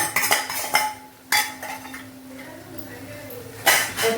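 Fried cashews and mixed nuts stirred into pumpkin (kasi) halwa in a pan, giving several sharp metallic scrapes and clinks of a spoon against the vessel with quieter pauses between them.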